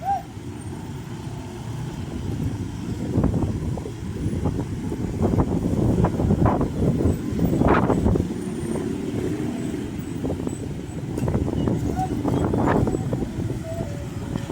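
A train rolls through a level crossing in a long, steady rumble of wheels and cars, building through the middle and holding at moderate volume, with road traffic and wind noise around it.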